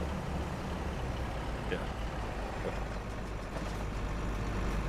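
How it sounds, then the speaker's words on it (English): A truck engine in Farming Simulator drones with a steady low rumble throughout, a constant loud bed of mechanical noise, with a brief spoken word over it. "I like the way that truck sounds. That thing sounds so good."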